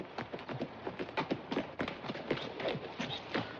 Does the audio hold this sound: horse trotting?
yes